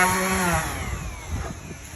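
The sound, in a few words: power sander sanding marine grade plywood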